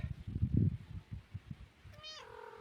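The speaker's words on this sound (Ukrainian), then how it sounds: "Да, кицька, да." A house cat meows near the end, a short rising-then-falling call following some soft shuffling and handling noises.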